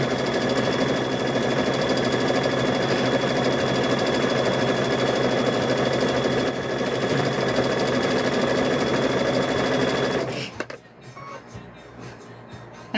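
Sewing machine stitching fabric bowl covers, a steady fast mechanical whir that runs continuously for about ten seconds, then stops abruptly and leaves quiet handling noises, close by.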